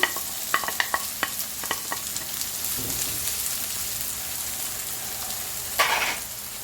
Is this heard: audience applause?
no